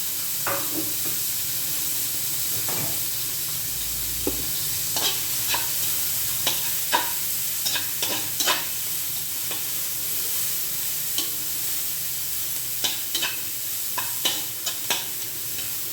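Steady sizzling of onions frying in a pan, with occasional crackles and pops and a soft stirring scrape, and no voices.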